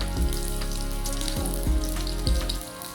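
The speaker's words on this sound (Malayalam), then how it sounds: "വെളുത്തുള്ളി നല്ല മൊരിയുന്നുണ്ട്" Whole garlic cloves fry in hot oil with a steady, close sizzle that crackles on and off, marked by a few louder spitting bursts along the way.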